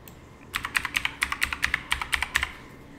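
Rapid keystrokes on a computer keyboard as a password is entered during a virtual machine setup, about a dozen close, crisp clicks in a quick, slightly uneven run with no talking.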